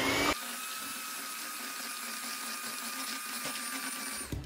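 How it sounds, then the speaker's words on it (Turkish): An electric mixer runs on its lowest speed through cake batter, a steady close whirring motor hum with a high whine, switched on at the start and cutting off at the end, with no talk. "Şimdi şöyle yavaşça mikserimizin birinci seviyesinde bütün harcı karıştıracağız."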